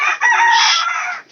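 A single loud, close chicken call, a sharp crow-like squawk lasting about a second, from fed backyard hens, alone with no talk.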